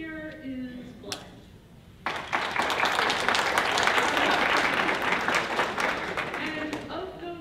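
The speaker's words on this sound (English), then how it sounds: "I always like to start off by a round of applause." A room of attendees at a talk on apps and productivity bursts into applause after a quiet moment with a faint voice. Dense, loud clapping then swells and holds steady to the end.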